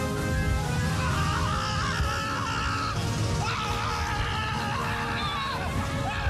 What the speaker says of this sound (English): I am watching real footage of a screaming clown interrupting someone's frisbee game and running away with the frisbee